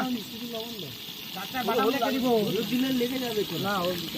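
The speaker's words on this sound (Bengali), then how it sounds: "আলু ছোকা শুরু হয়েছে" Potatoes frying with salt in a pan at an outdoor picnic in the Sundarbans, a steady close sizzle that runs under people talking throughout.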